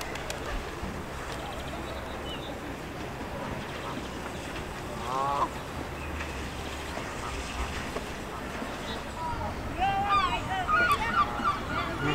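Geese honking with a few ducks near water on a sunny day at the Skegness seaside, calls rising briefly midway and then a louder cluster of honks near the end over steady outdoor background noise.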